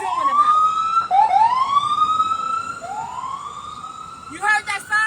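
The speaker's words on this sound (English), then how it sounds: "You heard that siren go by?" An emergency siren wails with rising, sweeping tones, fairly close and loud, passing by outside Rikers Island, its pitch repeatedly climbing, with a brief clatter near the end.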